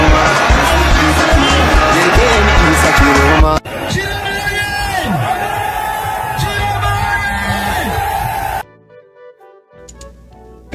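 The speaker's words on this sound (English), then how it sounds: "That is a crowd in Douala coming out in their numbers to celebrate Issa Churuma Bakari." A large crowd in Douala celebrating Issa Tchiroma Bakary, loud cheering, whooping and yelling that changes abruptly partway through, then drops to a faint, sparse background near the end.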